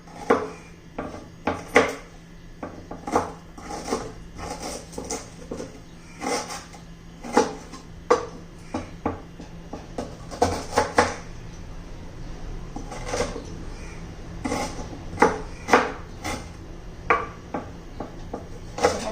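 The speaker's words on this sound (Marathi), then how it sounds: "आल्याचे छोटे छोटे पीस करून घेणार आहोत" Repeated knife chops of ginger on a wooden board, irregular and close, with occasional clinks of utensils; no talking.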